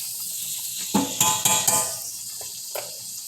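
Tomato sauce going into a pan of sizzling caramelized pancetta for pasta amatriciana, a burst of hiss and clatter with a few utensil knocks over a steady background sizzle.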